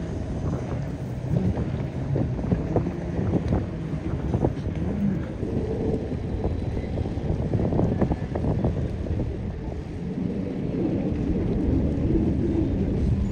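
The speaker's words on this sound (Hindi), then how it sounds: "ये ऐसे स्पीड बोट चल रही है बहुत तेज से।" Speed boats racing at an aqua bike world championship on a lake in Italy, a steady engine drone rising and falling at a middle distance, mixed with wind rumbling across the microphone.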